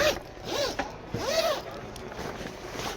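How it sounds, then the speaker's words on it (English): Zipper on the privacy enclosure of a 2019 Bennington Q25 saltwater pontoon boat, pulled in a few quick, close rasping strokes, then a quieter scratchy pause. "Zipper off when we go inside."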